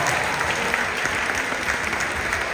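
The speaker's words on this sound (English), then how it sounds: "give a round of applause for ABOB" A middle school spring band concert audience claps steadily and fairly loudly, a continuous crowd of hands honouring the band booster organization.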